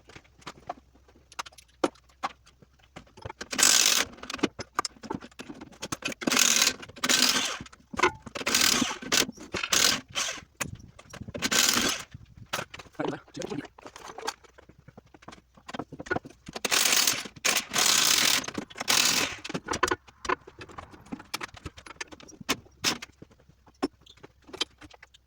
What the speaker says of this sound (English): we're going to go ahead and pop these U-bolts off